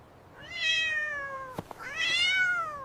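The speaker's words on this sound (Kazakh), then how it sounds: "Мышык мяу-мяу дейт." A cat meows twice, close and clear, each call a rising, drawn-out whine, with a short knock or tap between the two calls.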